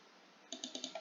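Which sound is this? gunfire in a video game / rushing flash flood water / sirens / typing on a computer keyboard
typing on a computer keyboard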